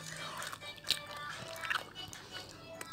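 Someone bites into McDonald's food close by, giving a few soft, crisp bites and chews that are faint and uneven over low room noise.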